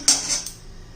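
A quick metallic clatter and scrape as roasted peanuts tumble into a metal vessel, a brief rattling burst that fades out.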